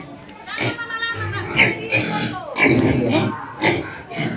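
White pigs on a pig farm grunt and squeal close by in repeated bursts, while a person talks among them and other animal and child-like sounds mix in.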